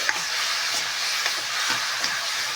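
Pork and Chinese kale stir-fry in a hot pan with a steady bright sizzle, broken by soft scrapes and clinks as the ingredients are stirred. Close and continuous, with no voices.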